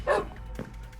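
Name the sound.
dogs barking in Minecraft, a video game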